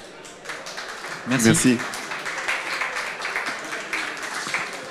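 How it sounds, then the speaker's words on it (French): Audience at a conference clapping after a panel talk, a brief burst of applause that swells and then thins into scattered claps, with a voice saying thanks over it. "Je pense qu'on peut les applaudir."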